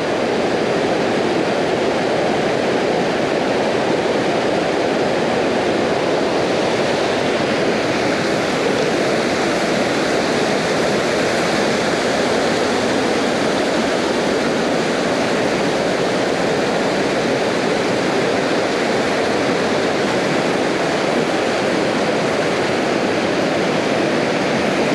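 Dainichi waterfall at Akame 48 Waterfalls pours in a steady, dense roar of falling water, full and unbroken throughout, with no voices over it.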